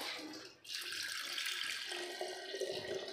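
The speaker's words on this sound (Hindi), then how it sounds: "हमें पानी भरना पड़ेगा" Cold water pouring steadily from a tap as a container is filled, a loud continuous rush that holds constant from start to end, no talking.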